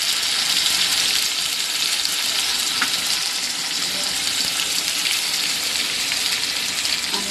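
Vegetables sizzle in very hot oil with a steady, dense hiss that stays fairly even from start to finish, with no voices over it.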